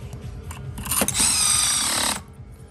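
A power tool drives the final cylinder head screws on a motorcycle top end: brief whirring spin-up, then a loud, steady buzzing drive lasting about a second before it stops, close by with no talk.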